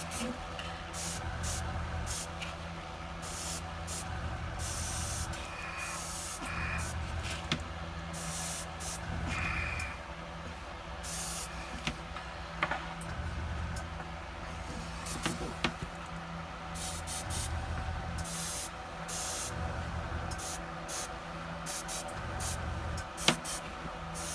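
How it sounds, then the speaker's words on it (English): An airbrush pre-shading miniatures with paint hisses in short, repeated bursts over a faint background hum, with brief pauses between the sprays. "What I am going to do is pre-shade the minis with an airbrush, which is what I'm doing now."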